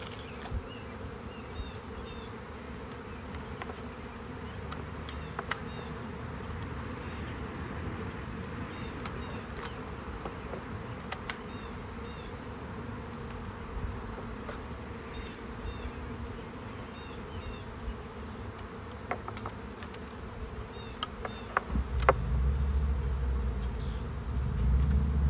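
A swarm of honey bees clustered under a hive bottom board gives a steady, dense buzzing drone that continues unbroken and close throughout.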